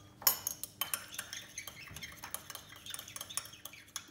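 Strontium nitrate and copper sulfate are stirred together in lab glassware, giving a quick run of light, close clinks and taps. The sharp ticks come one after another for a few seconds at a fairly quiet level, with no one talking.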